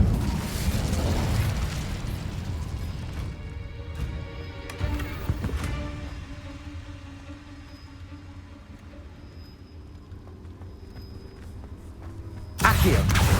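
Incendio fire spell cast in Hogwarts Legacy, a roaring fiery burst at the start that fades into a low rumbling tail with tonal game ambience, then another sudden burst at the very end.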